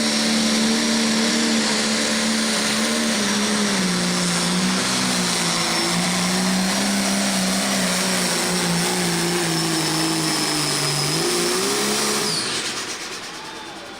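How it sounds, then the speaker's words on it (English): The Wild Buck pulling truck at a county fair pull, its turbocharged engine holding a loud sustained high-RPM roar with a whining spool, slowly wavering in pitch before dropping off near the end. "The massive turbocharger under the hood, over 100 pounds of boost, and massive RPM about ready to hit the track."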